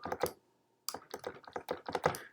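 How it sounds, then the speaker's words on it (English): Plastic keys of a MIDI keyboard are mashed in quick, uneven clusters of clacks and thumps, with a short pause after the first burst, close and fairly quiet. "you should be able to mash a MIDI keyboard."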